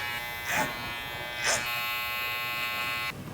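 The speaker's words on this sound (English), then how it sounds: "I'm just going to work a bit of clipper over comb, just to taper this into the sides" Electric hair clippers buzz steadily and close during a clipper-over-comb taper on the sides of a haircut, the motor's drone rising briefly twice as the blades pass through the hair.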